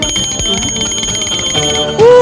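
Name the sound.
pocket bell pager beeping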